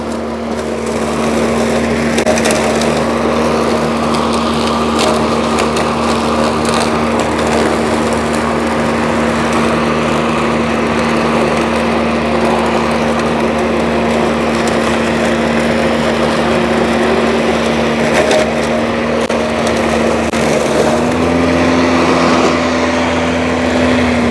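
A DeWalt DCMWSP156 cordless self-propelled 2x18V lawn mower trims grass along an asphalt edge with a loud, close, steady motor whine. The whine runs without a break for the whole stretch, and its pitch rises slightly near the end.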